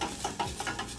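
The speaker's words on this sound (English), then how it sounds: "Looking for that sizzle, there we go." Olive oil sizzling in a pan with shallots, garlic and rosemary being sautéed, a brief crackling fry with soft stirring scrapes, close and fairly quiet.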